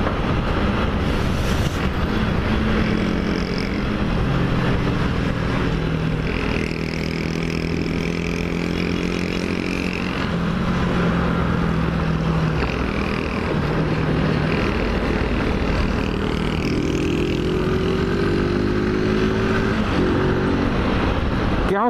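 A motorcycle roars along a highway at high speed, its engine droning loudly with rising and falling tones as it accelerates, and wind noise rushes steadily underneath.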